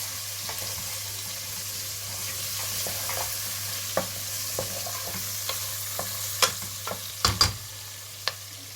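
Onion frying in oil with a low, even sizzle and scattered scrapes of a utensil stirring through the pan, growing busier toward the end; close and quiet, no talking.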